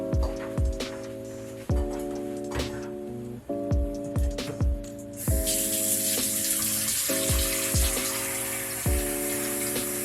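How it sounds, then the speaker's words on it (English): Warm tap water gushes into a kitchen sink over an egg, starting abruptly about halfway through and continuing steadily, while repeated ringing tonal notes sound throughout. "let that egg sit in the sink with some warm water running over it"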